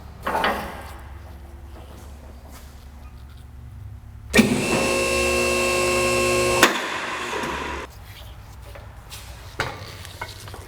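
A fabricated parking brake cable is trimmed in a workshop, with a loud, steady, high whine of about two seconds standing out between quieter background rumbles and clunks.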